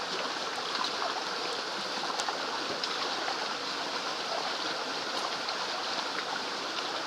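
Shallow creek water flows steadily and continuously, a broad close-up rushing burble with no pauses and no voices.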